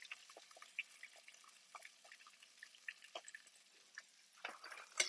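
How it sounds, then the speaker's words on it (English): Cooking oil dripping and trickling as it drains from a pan into a small stainless steel bowl in a kitchen: soft, irregular drips and dribbles, fairly faint, with no talking. "Oil is drained."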